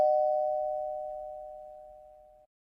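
A single doorbell chime rings out clearly on a panel show, its two steady tones sustained and slowly fading for a couple of seconds over near silence.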